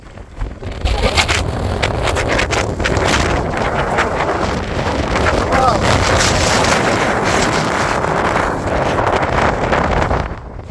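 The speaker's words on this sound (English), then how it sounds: "The wind is picking up" Strong wind buffeting the microphone on a mountain during an ultra race, a loud continuous roar with gusty surges nearly the whole time.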